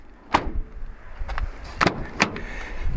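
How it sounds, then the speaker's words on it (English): Door of a Ford Maverick XLT pickup being shut, with several sharp thuds and latch clicks spread over a few seconds amid soft handling noise, close by. "when I close the door, watch what happens"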